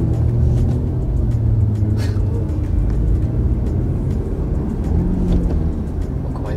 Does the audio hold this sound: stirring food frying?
no